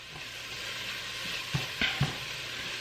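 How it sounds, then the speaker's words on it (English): Garlic fries with onions in a pan for a Zuppa Toscana soup, giving a soft continuous sizzle with a few louder stirring clicks and scrapes near the end, close and alone. "So we don't want that garlic to burn"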